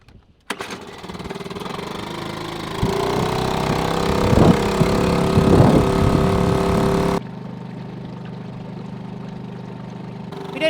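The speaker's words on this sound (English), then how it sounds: "We don't normally use the dinghy engine when we're looking for nature because it's so noisy" Small outboard engine on a dinghy running on a river, a steady loud mechanical chug with rising throttle in the middle before dropping to a lower idle.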